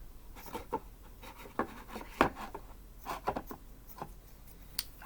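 Paper pieces being cut with scissors for a craft treasure box: a series of short, close snips and rustles in an irregular rhythm, fairly quiet, with no talking.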